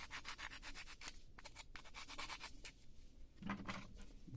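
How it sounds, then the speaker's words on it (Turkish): Steady back-and-forth rasping of sandpaper rubbing an edge, rhythmic strokes close up, briefly pausing before resuming. "Zımpara yardımıyla düzeltiyoruz"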